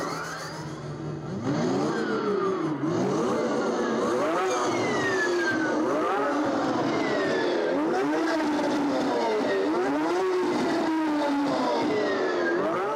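An electric motorcycle with the new e-stroke engine and direct drive, no gearbox, accelerates in repeated waves, its synthetic engine tone rising and falling in pitch several times, loud and close, with a whirring edge.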